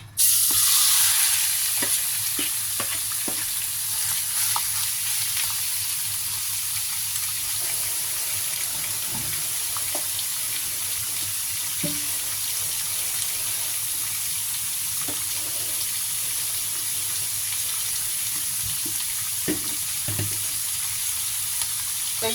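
Pork belly sizzles steadily in a pan as its fat renders, a constant hissing crackle with occasional soft pops and clinks, close up and without pause throughout.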